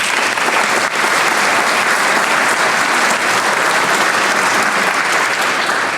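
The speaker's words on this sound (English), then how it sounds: "we want to give them a round of applause" An audience at a business awards ceremony applauds in a dense, steady burst of clapping that stays loud and even for about six seconds, with no talk over it.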